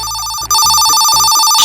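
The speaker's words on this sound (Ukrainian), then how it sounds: "Спокійно, це просто телефон." A telephone rings with a loud, shrill electronic trill, pulsing in rapid repeated bursts close by.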